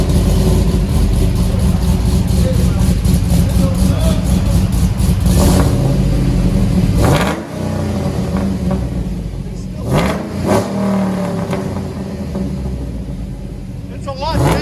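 A cammed 6.2L LS V8 in a 2007 GMC Yukon Denali with an 11-inch Magnaflow exhaust rumbles loudly up close, a deep, choppy idle with a couple of short revs near the end.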